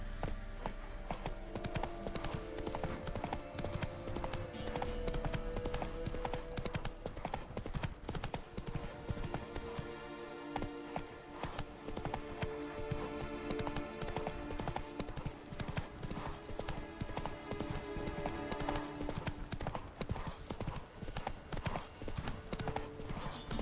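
A horse's hooves clip-clop at a steady, rhythmic pace during riding in the video game The Witcher 3, loud and continuous throughout.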